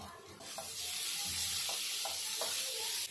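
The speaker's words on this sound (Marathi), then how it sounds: "हे मसाले टाकले ना की जरा भाजून घ्यायचा मसाला हा चांगला।" Kashmiri red chilli powder and onion-garlic masala sizzle and hiss in a hot pan for a drumstick curry, with a few soft stirring scrapes under the steady frying noise.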